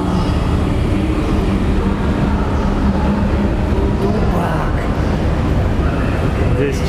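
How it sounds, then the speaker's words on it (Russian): A local electric commuter train to Paris at a station, a steady loud rumbling drone throughout while people talk over it. "Это местная электричка, которая идет до Парижа."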